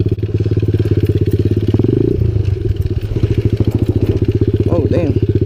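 A Kawasaki KLX 110 pit bike engine runs loud and close with a rapid, even putter, revving briefly near the midpoint before settling back into a steady throb, while a voice talks over it.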